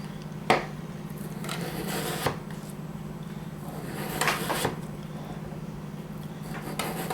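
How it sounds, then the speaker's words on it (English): A very sharp knife trimming potato slices about an eighth of an inch thick on a cutting board, giving a few separate crisp cuts and scrapes over a steady low hum. "I'm going to trim them, cut them as close to 1/8 of an inch as I can with my very sharp knife."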